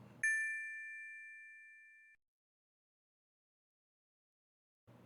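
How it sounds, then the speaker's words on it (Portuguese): A single bright notification bell dings as a subscribe reminder and rings out, fading over about two seconds into silence before a voice starts at the very end. "ativa o sininho para ficar ligado nos novos vídeos"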